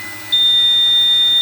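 A loud, steady electronic tone from a UPS battery backup under repair starts abruptly when mains power is cut and holds without a break, over a low electrical hum.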